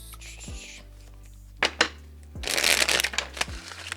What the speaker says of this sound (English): That's a better shuffle.